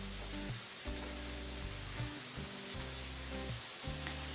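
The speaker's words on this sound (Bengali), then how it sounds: "কাঁচামরিচটা আমি ভালো করে নেড়ে 2 মিনিট ভেজে নিচ্ছি।" Green chili and chopped onion frying in a pan for a shrimp and spinach curry, heard as a soft, even sizzle that continues alongside a low, pulsing tonal backing.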